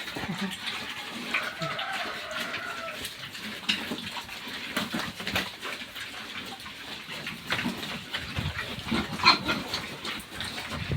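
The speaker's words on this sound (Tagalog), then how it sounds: "pwede nyo pakain sa mga alagang baboy" Domestic pigs eat fermented feed in a pen, with steady wet slurping, chomping and snuffling close by, occasional grunts and splashes, and no talk over the feeding.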